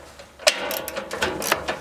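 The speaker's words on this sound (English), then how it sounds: "to get the other side off, it's a 1/2-inch socket, short extension." Ratchet wrench turning a 1/2-inch socket on a short extension to remove nuts on a wood chipper, heard as a series of close, quick clicking and ratcheting bursts without talk.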